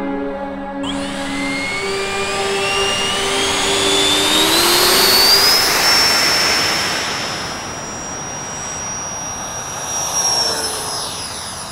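A Freewing F-104 90mm electric ducted-fan RC jet flying past, its high whine rising and sweeping in pitch as it nears, peaks loud and recedes, with a steady rushing airflow throughout.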